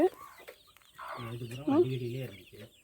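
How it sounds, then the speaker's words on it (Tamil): Close, soft clucking and cheeping from chicken chicks in short bursts, with a louder chirping call in the middle; no clear talking. "கோழி குஞ்சு இங்கே காலுக்கடியிலேயே இருக்குது"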